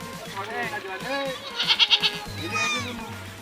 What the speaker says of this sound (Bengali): ছাগল ডাক দিয়েছি